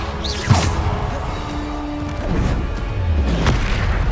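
Bombarda spell blasts in Hogwarts Legacy, a few booming impacts spread across a few seconds with swooshing casts between them, loud and close over game ambience, with a voice shouting spell names.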